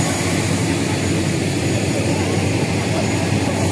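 An airplane engine runs at Serui airport as passengers board a flight to Jayapura, a loud steady roar with broadband rumble holding constant and nearby, with no clear speech over it.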